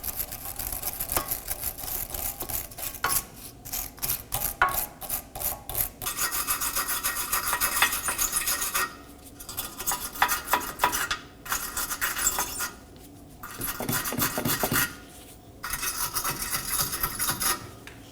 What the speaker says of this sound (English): I'll be using a wire brush.